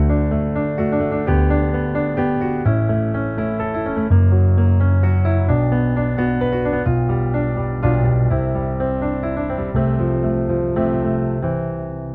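Solo piano playing the intro of a song in D, with full sustained chords, a steady moderate rhythm and rich low bass notes, alone with no voices.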